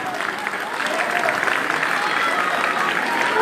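Crowd applause and cheering at a live tropical music show at the Maracana, a loud, steady roar of clapping that holds evenly throughout the clip.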